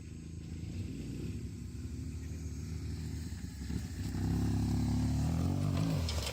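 A BMW motorcycle engine runs steadily as the rider stands on the pegs weaving through cones at a BMW Trophy Challenge qualifier, a continuous low rumble that grows louder and more insistent near the end.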